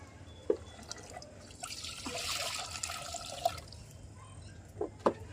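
Water pours and splashes softly, with scattered drips before and after a brief steady stream, fairly quiet and close by, in a village kitchen with a wood-fired stove.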